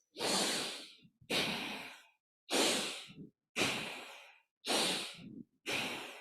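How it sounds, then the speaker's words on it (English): Slow, deep breathing in and out through the nose during a guided yin yoga meditation: six long airy breaths in steady alternation, close and quiet, each separated by a short pause, with no talking. "a full, deeply expansive inhalation where you're using your diaphragm. Imagine breathing into your entire torso, and a full, equal exhalation out through the nose"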